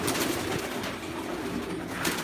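Pigeons coo in a loft, soft repeated low throaty calls rolling on steadily and fairly close, with no voices.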